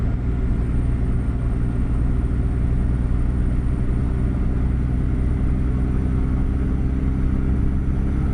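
A modded truck engine in American Truck Simulator pulls at throttle in top gear, a dense, loud, unbroken low rumble with a faint whine riding over it. It holds steady and close throughout, with no talk.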